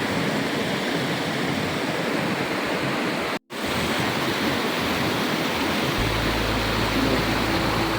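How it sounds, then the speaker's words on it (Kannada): A hidden waterfall in dense forest pours with a continuous broadband rush of falling water, loud and unbroken apart from one brief dropout, with a low steady hum entering near the end. "ಯಾವ ರೀತಿ ನೀರು ಬೀಳ್ತಾ ಇದೆ ಅಂತ"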